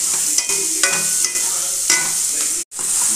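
Loud continuous sizzling of frying in a pan for paneer curry, with a spatula repeatedly stirring and scraping through it and one brief pause near the end.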